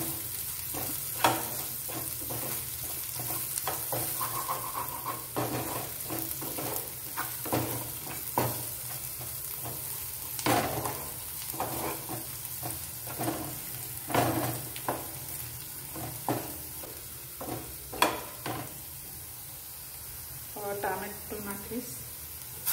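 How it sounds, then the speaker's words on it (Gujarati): Chunks of raw green banana (matoke) for a curry roasting in a hot pan, a steady sizzle broken by repeated scraping stirring strokes and occasional clinks of utensil on metal, with someone speaking intermittently over it. "થોડી વાર શેકવાનું છે"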